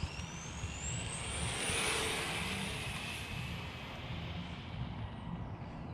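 ARRMA Talion 6s RC car racing around a construction site, its electric motor giving a loud continuous high-pitched whine that rises and falls with the throttle over rumbling wheel and ground noise.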